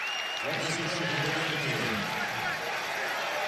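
Football stadium crowd at a college game rising into a swelling cheer on third down, with a broad roar of many voices and a commentator talking over it.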